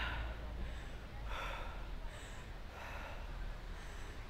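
Heavy, rhythmic breathing during a rest between workout rounds, a series of about four airy breaths spaced roughly a second apart, close and fairly quiet.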